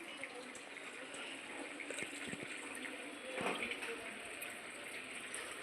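Water poured into a cooking pot in an outdoor kitchen makes a soft, continuous splashing gush that swells briefly midway, with no talking.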